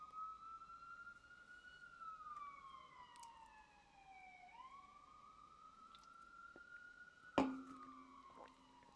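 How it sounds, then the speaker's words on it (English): An ambulance siren wails as it passes, a steady falling and rising tone that drops in pitch as it goes by. It stays moderately distant throughout, with one sharp click near the end. "Just gonna wait for this ambulance to pass"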